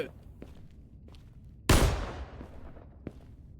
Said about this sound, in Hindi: गोली चल रही है इधर?